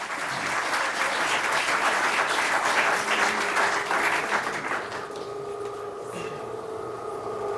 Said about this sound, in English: Let's go ahead and give them all a round of applause.